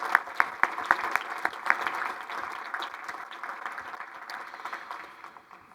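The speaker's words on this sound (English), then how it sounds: "If you would please join me in giving them a round of applause." Audience at an energy innovation summit applauds, a burst of crisp individual claps up front that blends into steady crowd clapping and gradually fades over several seconds.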